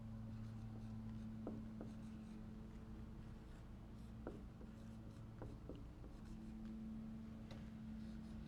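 A pen or marker writes words for a phonics lesson, faint scratchy strokes coming in short bursts over a steady low hum, close and quiet with no talk.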